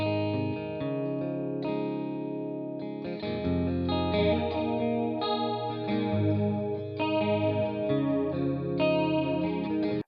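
A sustained layered synth pad playing shifting chords, widened by Baby Audio's Magic Switch chorus plugin, steady and full with a shimmering stereo chorus and no talking.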